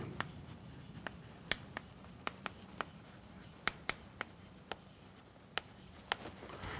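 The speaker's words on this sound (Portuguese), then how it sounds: "Vou escrever isso aqui." Chalk or marker tapping and scratching on a board during an arithmetic lesson, a series of short, sharp clicks at irregular intervals over faint writing strokes and quiet room noise.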